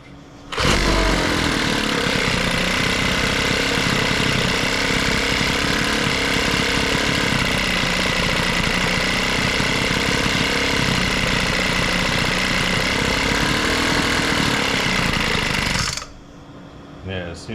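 A broken thrift-store leaf blower's small engine idles on half choke, a loud, steady buzzing drone close up that runs for about fifteen seconds before cutting out abruptly.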